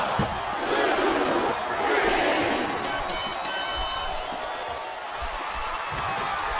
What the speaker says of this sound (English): the crowd has come alive tonight with a chant directed at the superstars in the ring